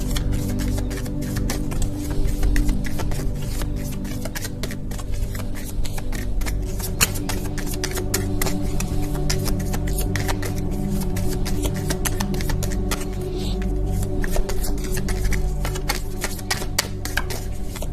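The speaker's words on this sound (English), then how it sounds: "These are such little bit of cards, it's hard to shuffle them that way." A small deck of cards is shuffled over and over, a steady rapid riffling and flicking of paper close by, without any talking.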